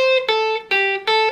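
Four sustained electric guitar notes of a pentatonic sequence played one after another, bright and ringing with no gaps between them.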